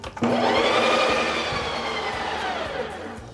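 Ninja Creami ice cream maker running its mix-in cycle on butter pecan ice cream, a steady loud whirring motor drone that starts abruptly and holds nearly constant with a slight fade at the end.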